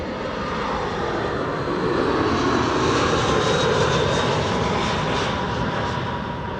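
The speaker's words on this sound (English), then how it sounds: "BA A319 arriving from London Heathrow" A British Airways Airbus A319 arriving from London Heathrow lands at Amsterdam Schiphol Airport, its engines giving a loud, steady roar that swells slightly and then eases over several seconds, with no talking.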